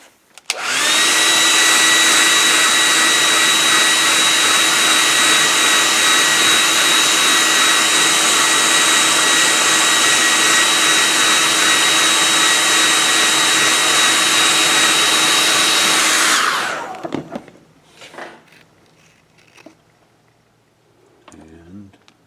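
A hair dryer blows on wet paint on a bottle-top craft, a loud, steady whooshing whine that starts abruptly, holds unchanged for about fifteen seconds, then cuts off, leaving quiet handling noises afterward.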